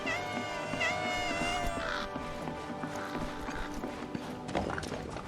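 Several cats meowing in Final Fantasy VII Rebirth, drawn-out tonal mews rising and falling over a busy game soundscape with footsteps and soft background music, moderately close.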